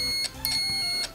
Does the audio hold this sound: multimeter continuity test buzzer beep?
yes